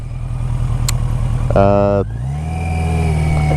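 A 1982 Yamaha Seca XJ650 motorcycle engine idles with a steady throb. It then revs sharply and settles back into a lower, even running tone as the bike pulls away, close and loud.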